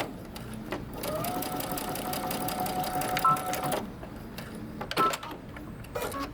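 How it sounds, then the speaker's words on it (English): Sewing machine back stitching: a steady mechanical whir with rapid needle clatter runs for a few seconds, then stops, followed by scattered clicks and handling knocks nearby. "I'm going to back stitch."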